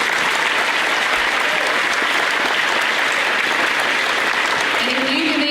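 Audience at a 5th grade elementary school graduation giving a loud, dense round of applause that holds steady throughout, with faint voices underneath.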